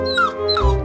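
A dog gives two quick high whimpering yips close by, each a short rising-then-falling whine, followed by a brief low huff.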